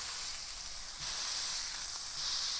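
Smashed burger patties sizzle on a very hot skillet, giving a loud, steady, close hiss that holds without pause.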